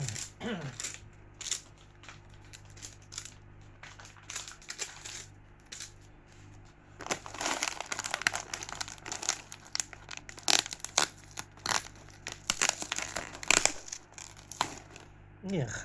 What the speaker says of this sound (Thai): รุ่นนี้ เทปกาวมันขาดติดนิ้วเลยทีเดียว